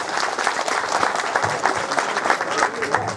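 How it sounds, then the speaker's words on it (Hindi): Crowd applause breaks out at a village panchayat meeting during a visit by the Chamba MLA, a dense, steady burst of many hands clapping close by, with some voices mixed in. "तो इनके लिए जोरदार तालियां।"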